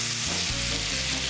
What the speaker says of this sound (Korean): 들리시나요? 이 지글거리는 소리.